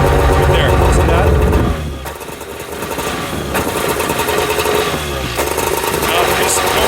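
A 2002 Arctic Cat Z370 snowmobile engine running close and loud, then stumbling and dropping in revs as the throttle is pushed down, with a person talking over it.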